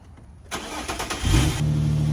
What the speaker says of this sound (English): go ahead and turn the car on